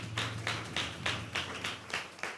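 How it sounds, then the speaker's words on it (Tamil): A church congregation claps hands in steady rhythm to thank God, about two claps per second, dense and fairly close with a low hum underneath; no voices. "நல்ல 2 கையை தட்டி ஆண்டவருக்கு நன்றி சொல்லுங்க."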